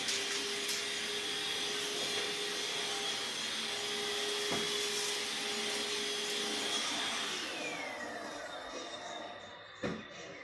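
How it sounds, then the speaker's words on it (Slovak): Vacuum cleaner, model 4000, running steadily and loudly with a constant motor whine, easing off toward the end with a brief clunk near the finish. "Mám tu aj náš vysávač 4000."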